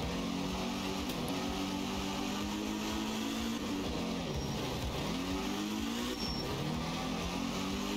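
A 1973 Group 3 rally car in art of rally drones steadily, its engine note holding, then dipping and rising again as the driver shifts and lifts, over constant road noise.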